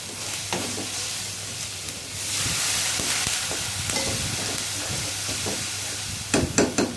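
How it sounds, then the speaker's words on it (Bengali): Spiced masala and beef tripe are stirred in a pan, with steady scraping and sizzling throughout, loud and close, ending with a few sharper clanks of the spoon against the pan. "এখন আমি ভালো করে নাড়াচাড়া দিব"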